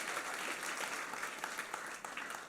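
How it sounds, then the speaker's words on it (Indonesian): A congregation at a Sunday worship service at a GBI church in Batam breaks into dense, sustained applause, a continuous wash of many hands clapping close by with no talk over it. "Beri tepuk tangan lagi buat Tuhan Yesus."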